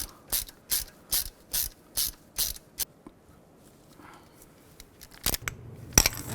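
A ratchet snugs down an engine mount bolt on a 2000-2006 Chevy Tahoe, about seven quick, evenly spaced clicking bursts up close, then quiet fumbling and a couple more clicks.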